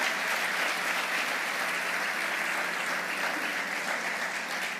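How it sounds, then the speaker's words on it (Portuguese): An audience at a motivational talk by Pablo Marçal claps for a group, giving steady, dense applause that holds at an even level throughout with no voices on top. "vocês vão dar uma salva de palmas para esse grupo aqui também"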